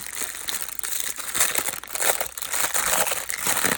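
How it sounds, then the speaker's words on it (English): Papers being pulled out of packaging crinkle and rustle continuously, close and fairly loud with irregular crackling bursts, no talking. "There's just gonna be crinkling, okay, because I need to get the papers out."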